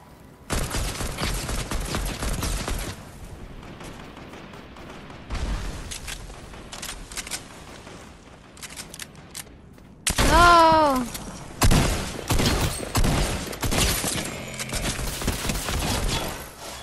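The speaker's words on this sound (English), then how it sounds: "Oh, I'm getting shot at." Rapid automatic gunfire in Fortnite, long sustained bursts of shots coming in waves, loud and close, with game sounds between them and occasional speech.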